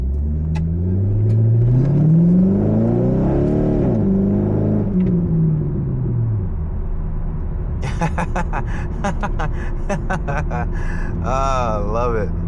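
A C5 Corvette pulls hard, its engine note climbing in a loud rising sweep, then dropping away into steady road rumble while people talk over it near the end.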